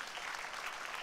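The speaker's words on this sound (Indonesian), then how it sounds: "Kalau mau beri tepuk tangan dong." Brief burst of applause from a church congregation during a sermon, a dense wash of many hands clapping together, heard close for about a second.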